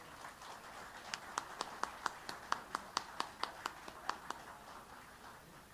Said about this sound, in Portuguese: a quem eu peço um aplauso de boas-vindas